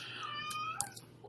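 A cat gives a short, close meow with a rising then falling tone, followed by faint clicks and rustles in a quiet room.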